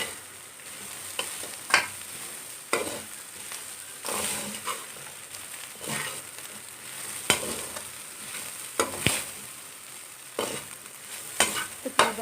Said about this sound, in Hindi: बस हमने इसको ऑयल में थोड़ा सा भून लेना